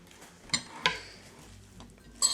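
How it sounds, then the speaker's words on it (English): A utensil scrapes and clinks against the bottom of a bowl of kale salad, a few distinct sharp contacts separated by quiet stretches, fairly close and soft overall. "I just kind of scrape from the bottom to get some of this goodness up"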